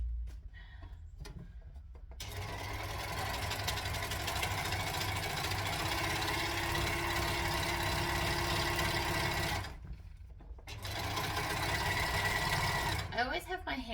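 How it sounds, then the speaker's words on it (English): An overlocker serges a fabric seam for a McCall's M8083 garment, running in a steady close mechanical whir for several seconds at a stretch, pausing briefly between runs. "so now I'm going to overlock that"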